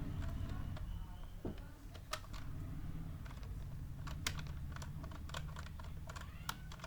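Computer keyboard clicking steadily while Java code is typed, scattered keystrokes over a constant low hum, fairly faint and close, with no talk over it.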